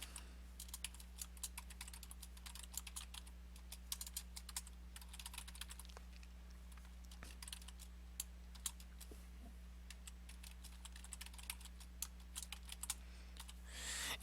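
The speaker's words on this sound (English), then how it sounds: "type in anything here" Soft, steady computer keyboard typing clicks away in a quiet room, fairly faint and close, with irregular keystrokes throughout and a low electrical hum underneath.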